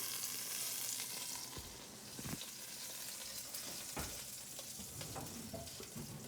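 Garlic and rice toast in a pan with a steady, quiet sizzle, punctuated by occasional scrapes and clinks of stirring.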